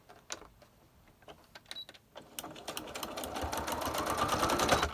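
A sewing machine stitches lace onto a laminated journal page: a rapid, steady mechanical whirring that starts in short bursts, then runs continuously and grows louder toward the end, close up, with no talking.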